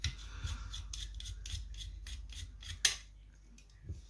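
Faint, close scraping clicks come in a steady series as screws are driven in while computer hardware is assembled, followed by one sharper tap and a quieter stretch.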